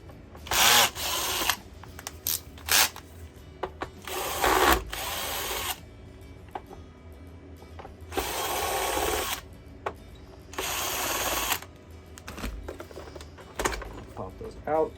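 Power screwdriver backing three screws out of a Sebo upright vacuum during a repair, heard as several short whirring bursts separated by pauses, with someone talking in between.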